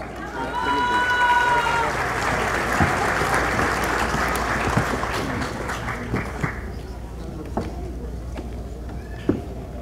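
Audience applause at an engineers' professional registration ceremony, a dense wash of clapping that starts loud and stays steady, then thins out toward the end into a few scattered claps.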